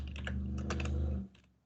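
Brief burst of computer keyboard typing during a lecture on multidimensional arrays, several quick clustered keystrokes over a low steady hum, fading out near the end.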